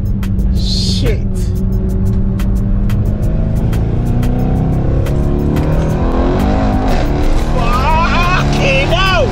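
Mercedes E63S car accelerating hard, a loud close engine roar climbing through gears with sharp upshift cracks and a rising whine, while a person talks excitedly over it.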